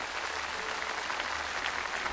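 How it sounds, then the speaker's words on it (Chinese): A studio audience at a Chinese TV game show applauds steadily, a dense, even wash of many hands clapping at moderate level with no break. "掌声再给舅舅。"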